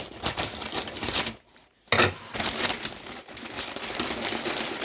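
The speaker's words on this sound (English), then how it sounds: "Let me get my scissors. I don't trust myself" Scissors snip and crinkle through wrapping paper on a parcel holding a bird's nest fern and a maranta, in dense, rapid, close-up bursts broken by one short pause.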